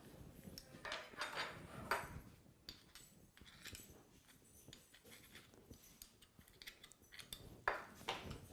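Small garlic mincer pressing peeled garlic cloves over a bowl, faint close metallic clicks, squeezes and scraping in irregular bursts, with no talk.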